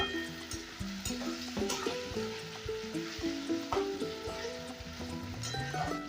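Ginger sizzling and frying in a pan for a mutton curry, with a steady crackling hiss and repeated scraping stirs of a spoon throughout.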